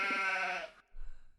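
A sheep bleats once, loud and close, as a sound effect: a sustained, wavering cry that cuts off abruptly and gives way to a brief low rumble.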